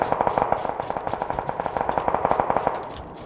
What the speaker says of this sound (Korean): 총소리 총소리 위에 있다 위에 있다